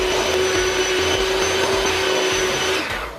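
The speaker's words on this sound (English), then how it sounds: "I'm going to use a hand mixer because that is what I have" An electric hand mixer whirs steadily at close range, a loud motor drone with a faint whine, mixing cinnamon swirl bundt coffee cake batter and cutting off just before the end, with no talk.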